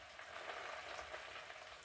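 Salmon fries in a covered pan on a weeknight stovetop, giving a steady, even sizzle that holds at a moderate level for the whole stretch with no talking.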